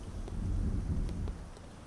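Steady rain with low rumbling thunder, a dense continuous wash that swells through the middle and eases slightly toward the end, with no voices.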